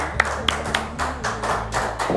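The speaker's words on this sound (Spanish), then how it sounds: "¡Aplausos!" Studio applause for a guest arriving on a talk show: a short burst of hand claps and taps over a low steady hum, moderately close, with no voices.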